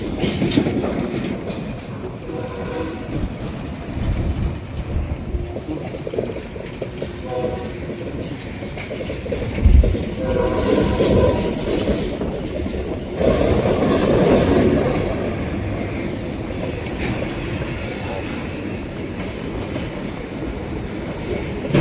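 A string of ten box cars rolls slowly into storage on a rail siding, a loud ongoing rumble with clanks, couplings banging and squealing wheels, the noise swelling midway.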